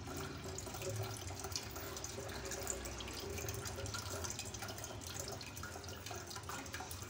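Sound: falsa juice being strained through a large sieve

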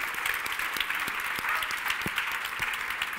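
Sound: audience applause

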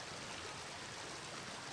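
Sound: rushing current of the Oder river under a footbridge

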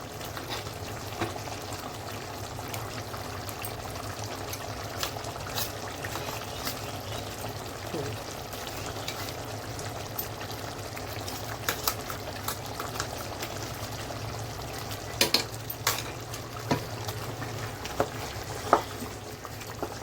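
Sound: roasted onion and dry coconut paste frying in the pan

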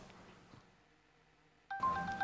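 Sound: telephone ringing

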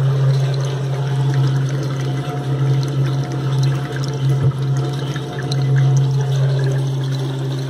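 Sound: washing machine drain pump expelling water during spin cycle

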